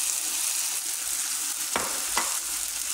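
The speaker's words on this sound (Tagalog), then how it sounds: "Ilagay ko na rin po yung patatas para lumambot na yung patatas" Potatoes go into a pot of simmering beef kaldereta, setting off a steady sizzle with two brief splashy clatters as the pieces drop and are stirred, close and moderately loud.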